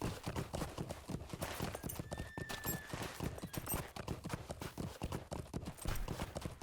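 Horse hooves clip-clopping at a steady, quick rhythm while riding in Lord of the Rings Online, close and fairly quiet, continuing evenly throughout with no talk over it.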